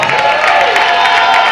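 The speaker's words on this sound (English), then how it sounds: "Give her a round of applause." Brief burst of audience applause at a cancer awareness event, a loud, steady patter of clapping close by with some crowd noise mixed in.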